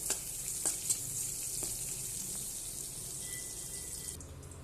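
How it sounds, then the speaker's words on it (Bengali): Pointed gourd frying in a pan over raised heat, a soft, steady sizzle with a few light stirring taps early on, fairly faint and close, with no talking. "এবার একটু আমি আঁচ বাড়িয়ে দেবো, বাড়িয়ে একটু নাড়বো ভালো করে।"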